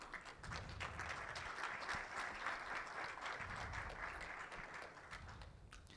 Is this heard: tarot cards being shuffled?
no